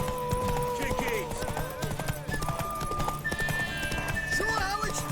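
A horse gallops with rapid clip-clop hoofbeats and whinnies in The Witcher 3, while characters talk over the running.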